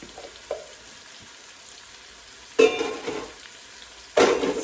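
Mushrooms and garlic frying in butter and olive oil, a soft background sizzle that surges into loud bursts of crackling as food drops into the hot pan, with a utensil knock early on.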